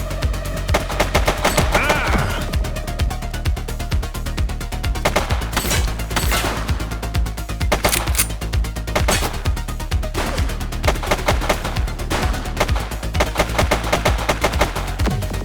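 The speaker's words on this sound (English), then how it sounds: "She's shooting!" Rapid, loud bursts of gunfire in the police game The Precinct, dense automatic-style volleys cracking close and nearly continuous with short gaps.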